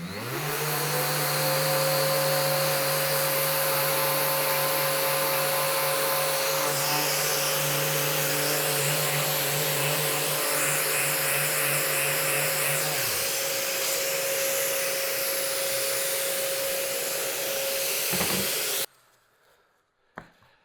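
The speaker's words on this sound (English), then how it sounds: "I'm gonna switch it out to a stiffer sponge, a 10mm sponge, and it's gonna sand off this adhesive a little bit faster." Power sander fitted with a stiffer 10mm sanding sponge, taking adhesive off kitchen cabinets: a loud, steady motor whine runs for about nineteen seconds, shifting pitch slightly partway, then cuts off, leaving near silence.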